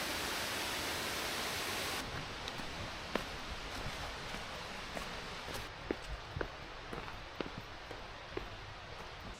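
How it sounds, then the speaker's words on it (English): Steady broadband rush of a waterfall in the Lake District on a busy day, loud and constant, with footsteps crunching nearby over it. "So we are pretty close to the waterfall now."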